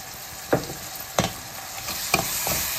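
Ginger garlic paste hits a hot pan for a mutton chana dal curry, a steady sizzle broken by a few sharp scraping stirs at irregular intervals, close up.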